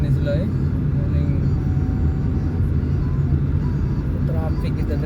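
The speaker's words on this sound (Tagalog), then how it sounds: "traffic kita diri tanawa." Road traffic with motorbikes near the IT Park corner heading toward Ayala, a constant close engine rumble with passing vehicle drones and a short horn-like tone, while people talk throughout.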